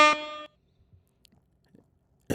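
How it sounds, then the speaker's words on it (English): A single loud air horn blast as a sound effect, a harmonic-rich tone held for about half a second before cutting off abruptly, followed by near silence. "I got to air horn that."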